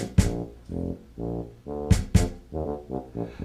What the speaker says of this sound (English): the tuba sounds like this.